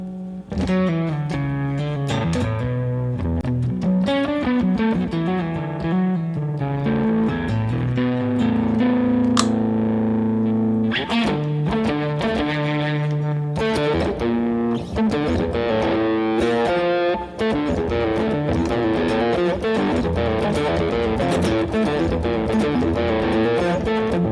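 Heavily distorted electric guitar plays a continuous run of chords and riffs, loud and saturated, with no voices.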